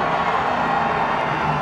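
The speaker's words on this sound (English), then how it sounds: "listen to the crowd" A large NASCAR crowd at Michigan International Speedway roars and cheers for Dale Jr.'s race win, a dense continuous wash of distant cheering that stays loud and even for the whole moment.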